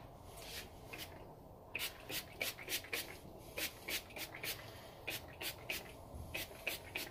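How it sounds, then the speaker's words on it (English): A hand-pumped spray bottle of African Pride hair product mists the scalp and hair in quick, quiet, rhythmic bursts, each one a short, soft hiss. "So spray the scalp and also the hair."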